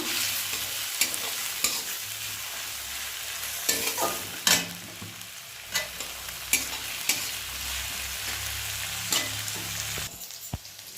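Slit green chillies frying in a pan for an egg curry: a continuous bright sizzle with scattered spatters and occasional stirring knocks, close by and with no voices.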